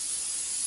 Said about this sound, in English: Now it's safe to spray it down with brake parts cleaner for the final spray